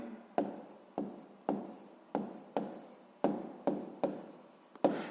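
Handwriting with a pen on paper while working a sixth-grade maths exercise on cube surface area: a steady series of about nine rhythmic scratchy strokes, close and clear, with no talk.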